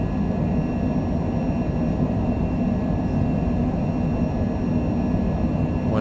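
Jet engines of a Cessna Citation Longitude on its takeoff roll at Rapid City in strong crosswind, a loud steady roar and rumble from inside the cabin with a thin high whine on top.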